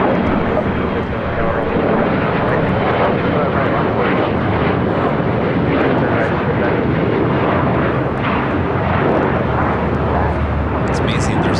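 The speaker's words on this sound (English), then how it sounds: "Now on final for 24 right is Emirates 215 Super coming in from Dubai on the A380." An Emirates Airbus A380 jet on final approach to runway 24 Right at LAX, a loud continuous engine roar and rushing whine holding steady throughout, heard outdoors from close by.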